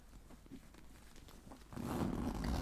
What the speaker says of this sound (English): when you open the bag with the zippers, the bag opens wide enough for you to reach in there